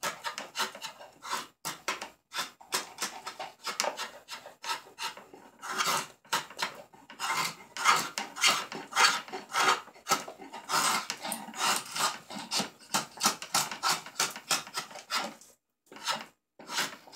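A rasp files bark off silver birch wood being shaped into a spoon, producing dense, steady scraping strokes in a quick back-and-forth rhythm, close and fairly loud, with brief pauses between bursts.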